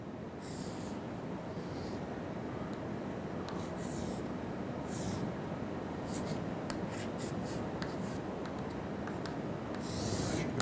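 Chalk scratches and scrapes across a classroom blackboard as a flight-mechanics diagram is drawn, a steady stream of close, gritty strokes with occasional sharper squeaks and no talking.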